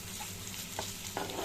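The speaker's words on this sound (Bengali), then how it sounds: "আগে পেঁয়াজ মরিচগুলো ভাজবো, তারপরে আপনার ডিমটা দিব।" Onions and chillies fry in a pan for a spicy egg bhurji, a quiet, even sizzle with a few light stirring ticks.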